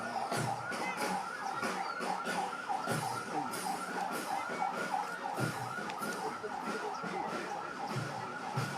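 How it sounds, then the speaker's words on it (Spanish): A type 3 ambulance of Andahuaylas Hospital rolling in a civic parade, its siren wailing steadily and close amid a busy crowd din, with voices talking throughout. "va la ambulancia de tipo 3"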